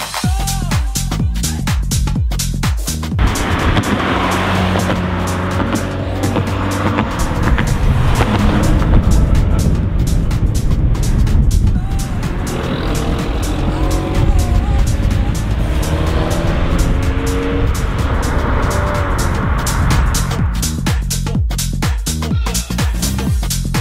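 Abarth 595C Competizione with a 180 hp engine driven hard, engine note rising and falling loudly through gear changes and revving, heard from inside with faint background voices.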